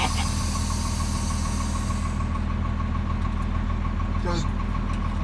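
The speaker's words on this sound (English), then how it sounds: "I want to hear the engine on this one." A 2013 Kenworth T370 wrecker truck's 350 HP Paccar PX9 diesel engine idles steadily and loudly from start to finish, a constant deep throb with a faint higher hum.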